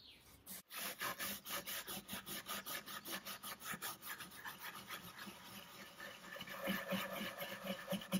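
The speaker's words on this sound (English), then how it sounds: "I used some steel wool and mineral spirit to give it a final clean" Steel wool with mineral spirits scrubs an old wooden trunk in quick, rhythmic back-and-forth rasping strokes, close and steady throughout, with no talk.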